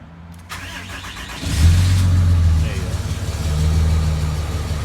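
A 2007 Dodge 3500 Laramie truck with a 5.9 engine starts cold. There is a short crank, then the engine catches and revs up loudly before settling into a rough, rumbling idle close by.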